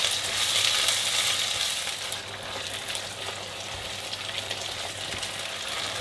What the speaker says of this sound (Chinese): 倒入前面炒好的酱， 不断翻炒，让酱和洋葱末充分混合